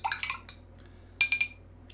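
A spoon stirring a cocktail in a glass gives two short clusters of bright clinks and tinkles against the glass, close and clear, with no talking.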